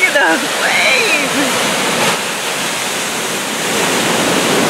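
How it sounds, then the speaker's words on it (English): Hurricane surf crashing against a beach and pier, a loud continuous broadband roar of breaking waves and wind-driven water throughout, with a voice briefly audible at the start. "Look at those waves!"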